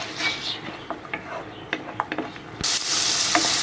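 Spice masala for a chickpea burger stir-fried in a pan, a sizzle broken by a string of spatula scrapes and taps, then a louder burst of hissing near the end.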